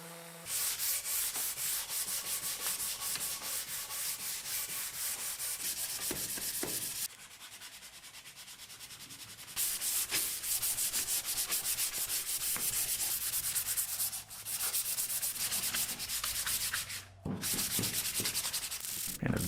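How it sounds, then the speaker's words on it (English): Continuous abrasive sanding of old finish off a mid-century wooden chair, a steady rough hiss with brief pauses and resumptions, close and fairly loud throughout. "And eventually we were done sanding."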